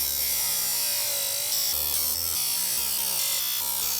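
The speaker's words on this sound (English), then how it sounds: "I already sharpened that tooth on the chainsaw blade" Chainsaw chain teeth being sharpened with a file, producing a steady, close rasping scrape that runs continuously through the whole stretch with slight rhythmic strokes.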